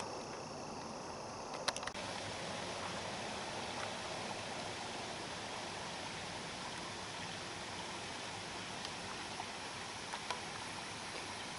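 A waterfall beside the Allegheny River Trail at Foxburg, Pennsylvania, rushes in a steady, close, unbroken hiss of falling water, holding the same level throughout with no voices.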